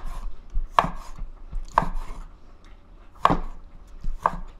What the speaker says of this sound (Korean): 이걸 이렇게 다 손질해가지고 잘라야지